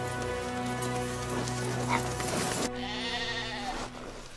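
Sheep bleat during a snowstorm over a steady wash of rain-like noise, a few wavering calls overlapping before the sound shifts abruptly.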